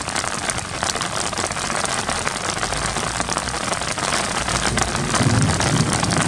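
Rainwater rushing along the ground after a summer storm in Caxambu, a loud, continuous broadband wash of flowing water that swells slightly toward the end, with no talking.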